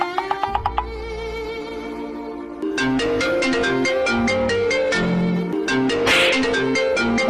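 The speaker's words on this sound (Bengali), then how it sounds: "ভাই ফোন করছে এখন," An incoming-call ringtone on a mobile phone plays a bright, repeating electronic melody that grows loud and steady after a few quick beeps at the start, with no talking over it.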